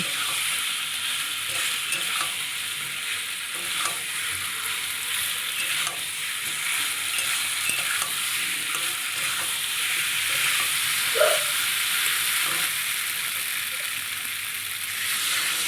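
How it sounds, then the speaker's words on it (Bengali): Small potatoes sauté in a spice masala in a pan, giving a steady soft sizzle with occasional stirring scrapes, close up and continuous with no talking. "তারপরে আলুগুলো দিয়ে দিলাম মশলার ভেতরে দিয়ে আর একটু কষিয়ে নেব"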